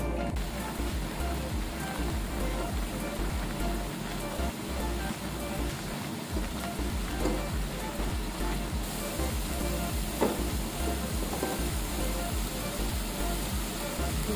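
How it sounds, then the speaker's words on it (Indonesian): Blended spice paste, turmeric among it, fries in hot oil for a chicken liver and gizzard stir-fry, giving a continuous close sizzle and crackle that holds steady throughout with no talk. "Kita akan tumis bumbu yang sudah kita blender ya,"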